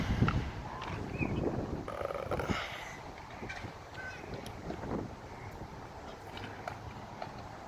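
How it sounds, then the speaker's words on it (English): Gusty wind blowing across an open park green space with a play area and trees, buffeting the microphone in loud rumbling bursts early on before settling into a steadier, softer rush. "Pretty windy and coldy outside today."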